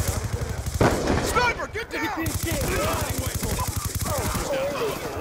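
Gunfire from a sniper rifle in a military shooter video game, with rapid repeated shots and bursts alongside explosive battle effects and radio-style announcements, loud and close, while a player talks over it.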